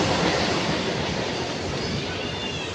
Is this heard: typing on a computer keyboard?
no